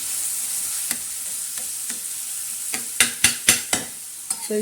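Garlic chutney sautéing with soybean in a hot pan, a steady close sizzle with scattered spatula scrapes that cluster into four sharp strokes near the end.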